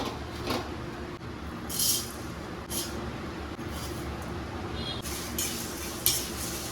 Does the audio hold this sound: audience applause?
no